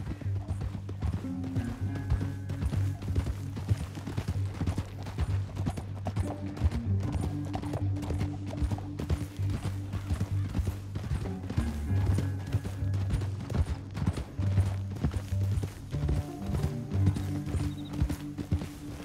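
Steady clip-clop of horse hooves trotting along in the video game Red Dead Redemption 2, continuous and fairly close, with a low rumbling background and occasional faint voices.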